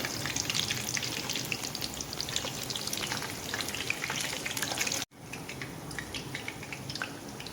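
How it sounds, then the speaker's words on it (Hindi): Pakoras deep frying in hot oil for kadhi pakora, giving a steady, close crackling sizzle with dense bubbling pops and a brief break just past the midpoint. "गाइस इसी तरह हम सारे पकौड़ों को फ्राई कर लेते हैं"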